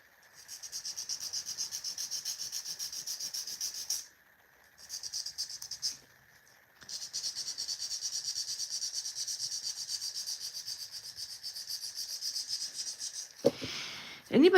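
A nail file rasps against an acrylic coffin nail in quick, steady back-and-forth strokes. The close scratchy rubbing runs in long bursts separated by short pauses and ends with a brief clatter.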